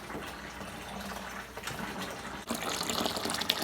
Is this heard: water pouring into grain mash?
yes